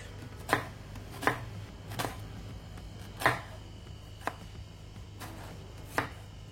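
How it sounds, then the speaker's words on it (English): A knife chops onions on a cutting board in sharp, separate strikes, about seven of them at an uneven pace, close and fairly quiet. "And here I got my onions. I am going to cut them and set aside."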